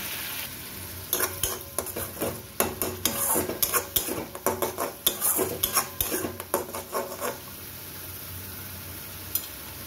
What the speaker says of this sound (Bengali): আমার পেঁয়াজ রসুনটা কিছুটা ভাজা হয়ে গেছে